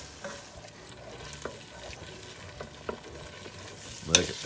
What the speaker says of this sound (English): Slowly put it in, stir it together